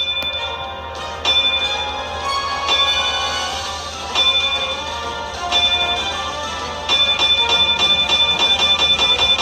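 Bells from the anime One Piece ring out in a series of clear, resonant strikes, each chime sustaining and overlapping the next, loud and close with no voices.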